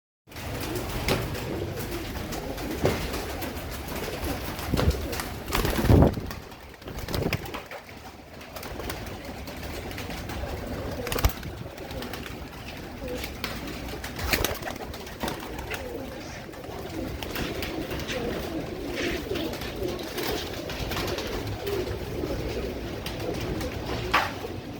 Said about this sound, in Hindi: ये हमारे फकीर गुल कबूतर चैंपियन जो कबूतर है ओरिजिनल